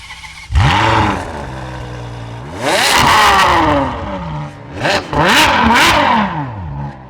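A large V12 engine at the Spa circuit fires up with a sharp roar, then revs hard in several rising, snarling bursts, loud and close, settling between blips.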